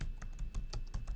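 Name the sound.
typing on a computer keyboard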